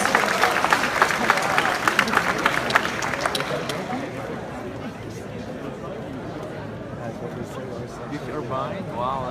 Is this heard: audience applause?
yes